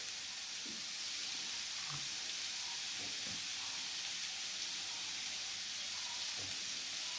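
Potatoes fry in oil with cumin and coriander powder, a steady close hiss and sizzle that runs throughout, with a few faint clinks and knocks beneath it.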